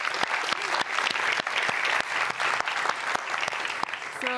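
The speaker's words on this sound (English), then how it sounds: "Let's give a round of applause." Audience applause at a student pitch competition grand final during a European innovation summit, a steady, dense wash of many hands clapping that holds evenly throughout.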